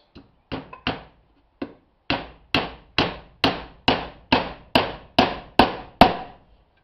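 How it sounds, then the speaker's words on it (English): A hammer drives nails into a wooden bee hive body box: about a dozen sharp, close, loud strikes, first a few scattered taps, then a steady, evenly spaced run of blows with brief silences between. "A little glue, a couple of nails."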